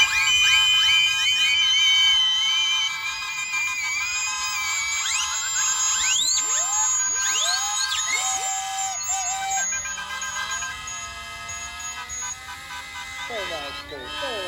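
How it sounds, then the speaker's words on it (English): Miniature steam engines blow their whistles in the ring at a steam rally at Belvoir Castle, many shrill overlapping tones rising and falling over a continuous crowd murmur and outdoor bustle. "You're going to make some whistling noise on 3, 2,"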